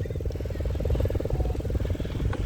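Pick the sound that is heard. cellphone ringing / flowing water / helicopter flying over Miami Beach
helicopter flying over Miami Beach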